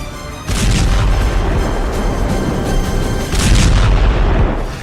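Heavy booms and blasts from missile fire and explosions in war news footage of Hezbollah missile strikes, two loud sustained rumbling bursts close together, with no talk.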